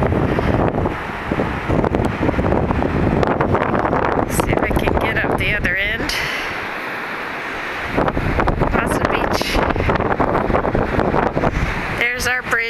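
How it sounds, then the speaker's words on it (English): Wind on a beach rumbles against the microphone beneath a person talking, easing briefly in the middle before picking up again. "The wind has died down a little bit."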